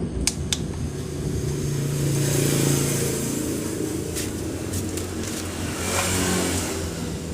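A Honda Vario 110 scooter engine being started with the starter and revving, a steady mid-pitched engine drone that swells and eases, with a couple of sharp clicks near the start.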